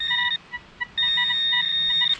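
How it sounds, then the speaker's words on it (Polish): A metal detector pinpointer beeps near the ground, with short tones that swell into a sustained high electronic whine during the search for a target, which turns out to be a pigeon ring. "Odpalimy jeszcze propointerka"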